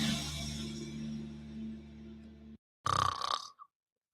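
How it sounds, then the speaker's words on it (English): A person snoring with slow, loud, rattling breaths, followed after a short silence by a sharper, shorter snort. "Is your spouse's snoring becoming an issue?"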